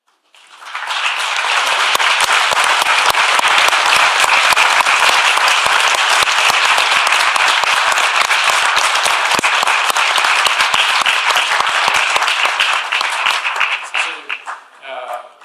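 Sustained audience applause rings out at a human rights event, loud and steady for about thirteen seconds before tapering off into scattered claps.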